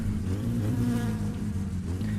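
Flies buzz steadily and loudly in the video game My Summer Car, a dense continuous insect drone with no talk over it.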